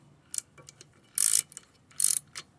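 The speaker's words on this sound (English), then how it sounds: "fancy open-ended ratchet on there, hold the center with a T45 socket, and crank it down" An open-ended ratchet tightens a strut nut on a Mercedes GLK, giving short bursts of crisp metallic clicking separated by quiet pauses, close and faint-to-moderate with no speech.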